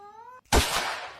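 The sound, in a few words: cat meowing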